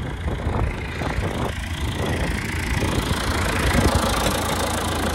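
A John Deere 6400 cab tractor idles steadily beside a 4-row John Deere 7000 corn planter, a continuous mid-pitched diesel rumble with faint knocking, close and even throughout with no voices.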